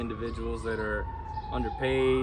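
Police sirens wail outdoors in the background, their rising and falling tones running beneath someone speaking close by.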